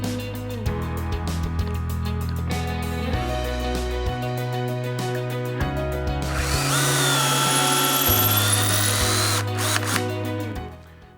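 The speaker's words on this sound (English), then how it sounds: "follow along as I drill these out and then start installing these into the cabinet" A power drill with a Kreg jig bores hinge holes for Blum hinges in cabinet doors, several separate bursts of loud whirring start and stop in sequence, with one longer, higher-pitched grinding run near the end.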